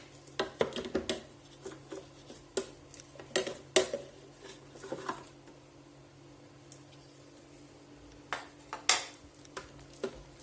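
A spoon scrapes and clinks against a bowl while stirring thick homemade hazelnut honey paste, producing irregular close taps and scrapes with short pauses between bursts and no talking.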